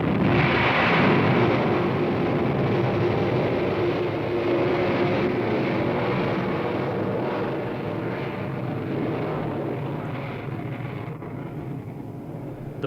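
Saturn V rocket at liftoff, a loud, continuous rumbling roar with broad low-end power that holds steady and eases slightly toward the end, with no voices.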